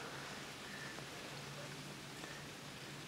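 Soft, steady rain falling at a lake on a wet carp fishing trip, a faint continuous hiss of drops with no voices.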